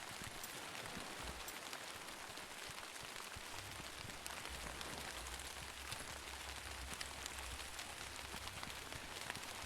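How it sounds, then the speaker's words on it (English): Steady rain falls in the video game Railgods of Hysterra, a constant soft hiss of drops with a low rumble beneath, uninterrupted and without talking. "It's raining all over the world tonight."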